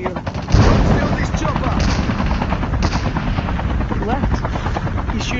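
Rapid bursts of automatic gunfire and explosions from a Call of Duty match play over a steady helicopter-like roar. Excited players talk over the loud, dense battle noise.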